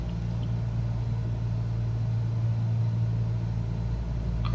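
Aircraft engine in Microsoft Flight Simulator throttling down on approach near Cape Town, a steady low droning hum holding at an even, fairly loud level throughout with no voices.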